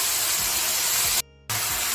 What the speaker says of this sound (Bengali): আদা বাটা দিচ্ছি।